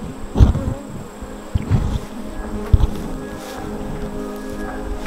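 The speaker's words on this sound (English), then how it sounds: "So we're gonna go over here and check on these bees and see what's going on in this hive." Honey bees buzz around a hive on a small farm, a constant insect drone close to the microphone, broken by several loud thumps and handling knocks from opening the hive.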